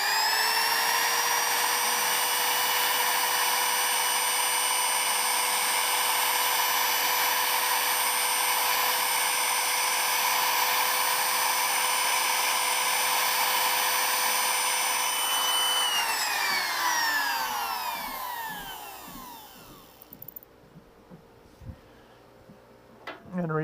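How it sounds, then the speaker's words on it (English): A loud, steady air blast blows wood shavings out of a hollow turned wooden vessel, holding a constant high whine for most of the clip before winding down and fading out near the end. "the reason I blow it out, see how it builds up in the corners there"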